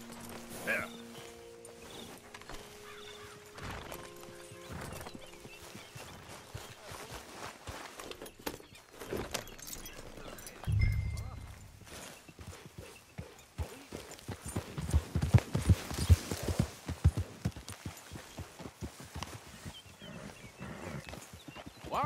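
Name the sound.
horses hooves clip-clopping while riding in Red Dead Redemption video game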